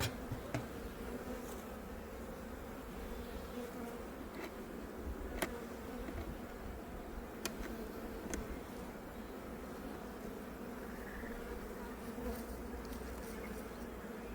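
Honeybees at an open hive during an inspection, with a steady, close swarm-like hum throughout and occasional faint clicks and taps of frames being handled, no voices.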